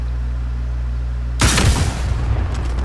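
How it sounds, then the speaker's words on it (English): Gunfire in Call of Duty: Modern Warfare, a sudden loud burst of shots that cuts through a steady low hum, then sharp scattered cracks trail off. "Somebody else is shooting at me."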